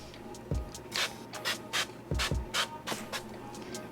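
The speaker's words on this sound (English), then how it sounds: "just spray the inside of the bowl we were working in with some avocado spray" Avocado oil spray mists into a mixing bowl in short hissing bursts, several quick sprays close up with no talking.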